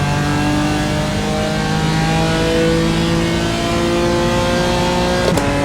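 A BMW M4 engine in a racing simulator game on the Nürburgring, a loud continuous drone shifting in pitch as the car brakes and changes down, with a brief sharp transient near the end and no talking.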